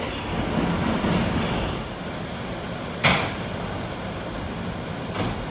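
Interior of an R179 New York City subway car on the A train running between stations, a steady broadband rumble of wheels on rail with a couple of sharp clanks and rattles.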